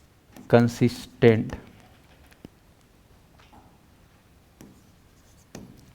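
Writing on a board during a classroom lecture: a few brief scratchy strokes and taps, sparse and fairly quiet, after a short burst of a voice at the start.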